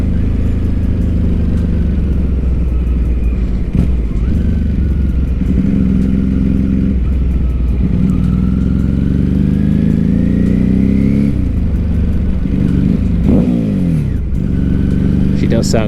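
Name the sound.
Ducati 749 motorcycle engine revving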